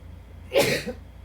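A single short, breathy burst like a sneeze or sharp exhale, close and fairly quiet, with near silence around it.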